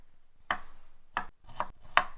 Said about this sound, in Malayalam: ഇനി നമുക്ക് ഇഞ്ചി അരിയാം.